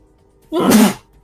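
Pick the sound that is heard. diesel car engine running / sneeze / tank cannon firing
sneeze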